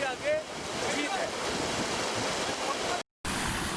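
A mountain river near Dudipatsar Lake rushes under high pressure, a loud, dense, roaring wash of water that runs continuously, briefly cut out near the end, with faint voices at the start.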